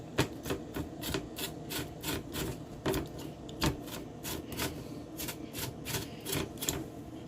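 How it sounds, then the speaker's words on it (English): Aloe vera leaf being scraped to pull out its juice gives a steady series of dry, rasping strokes, close and moderately loud, repeating in an even rhythm with no talking. "Scrape it to get the juice out of it."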